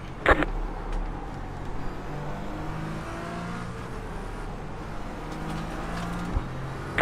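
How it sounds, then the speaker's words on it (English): Race car engines in the racing simulator iRacing whine and rev steadily as a group of faster GT cars draws closer at Indianapolis, with a couple of sharp knocks. "A group of faster cars approaching."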